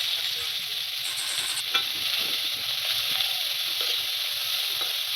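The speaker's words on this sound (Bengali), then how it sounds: "কড়াইয়ে সামান্য একটু তেল দিয়ে দিলাম গোটা গরম মশলা, কুচনো পেঁয়াজ" Chopped onion and whole garam masala frying in a little oil in a kadai, an even, steady sizzle heard up close with faint stirring underneath.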